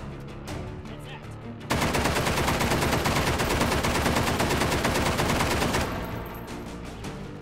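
Submachine gun firing in Hot Dogs, Horseshoes & Hand Grenades in VR, a sustained loud automatic burst of rapid shots lasting several seconds after a few quieter single pops, then fading out.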